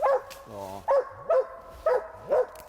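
A hunting dog on a squirrel hunt bays out in the woods, giving about five evenly spaced, loud, drawn-out barks in a steady rhythm.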